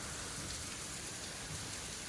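Sudden heavy rain pours down steadily in Baramati, a dense, even hiss of falling water heard faintly and without a break, with no voices.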